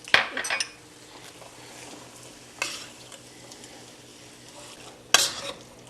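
Ground meat with Italian seasoning stirred in a sizzling pan: a utensil scrapes and clinks against the metal in a few sharp bursts over a steady, quiet frying hiss.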